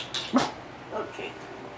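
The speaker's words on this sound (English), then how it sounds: "Oh, my goodness, don't lick my ear." A dog whimpers close by while licking a person's ear, giving two or three short, faint yips and whines over a quiet room.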